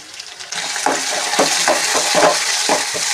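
Chopped tomatoes stirred into a pan of sizzling garlic and dried red chillies for red chutney, loud close frying hiss with repeated scraping spoon strokes against the pan, no talking.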